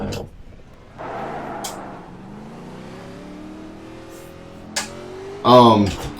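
Racing video game car engine, a beefy B-class car, drones and slowly climbs in pitch as it accelerates, with a sharp louder rev burst near the end, while a voice talks over it.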